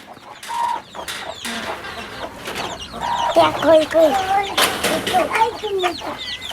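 Chickens kept at home cluck and call close by in short, repeated bursts, with brief voices and other noises scattered between them.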